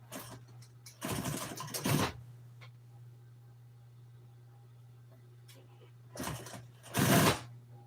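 A sewing machine stitches an old Toyota seat cover in two short runs, each a fast, loud whirring burst of about a second over a steady low hum, with quiet handling noises between them.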